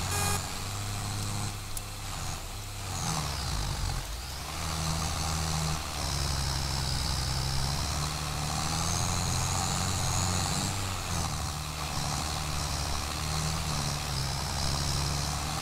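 A tractor engine runs steadily in Farming Simulator 22, a loud, continuous low drone that climbs a front slope in a second gear while harvesting wheat, with rumbling mechanical tones and no talk.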